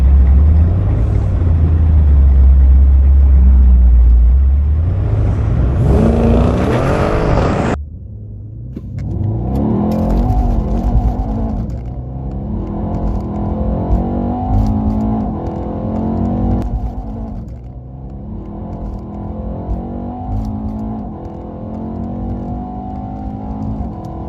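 A car launches from a standstill at a drag race against an E63s, RS7 and big-turbo BMW 240, its engine roaring loud at first, then revving in rising and falling pulls as it spins and accelerates away, with no talk.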